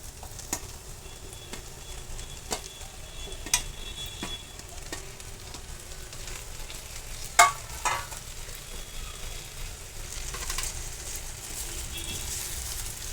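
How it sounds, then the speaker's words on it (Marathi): Steamed broccoli is stirred in a hot pan for a dry Indian broccoli sabzi, with a soft, steady sizzle punctuated by sharp scrapes and clicks of the spatula, one louder knock midway. "आता आपण ह्याच्यामध्ये वाफवलेली ब्रोकली टाकून घेणार आहोत."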